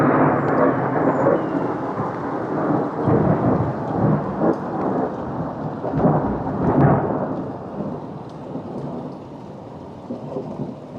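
A thunderstorm recorded out of a window: heavy steady rain hisses throughout while thunder rumbles and rolls in several swelling peaks, loud and close, then eases toward a softer downpour at the end.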